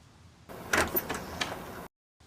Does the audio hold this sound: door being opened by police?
yes